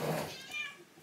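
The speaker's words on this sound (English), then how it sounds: "My cat." A pet cat meows indoors, a short close call that tails off within about a second, heard alone with no talk over it.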